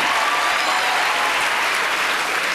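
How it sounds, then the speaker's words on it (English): At a newlywed game show on a cruise, an audience gives a volunteer on stage a round of applause: a thick, even wash of many clapping hands, loud and sustained throughout. "Give her a round of applause for being so cute."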